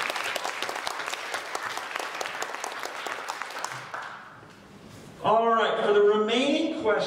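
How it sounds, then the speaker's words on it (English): School audience at a middle school geography bee applauding a student, a dense sustained wave of clapping that fades out, followed by a person speaking. "And everybody give a big round of applause to Andrew."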